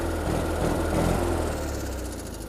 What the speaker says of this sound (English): that sounds good for one of them engines